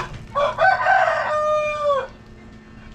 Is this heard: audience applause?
no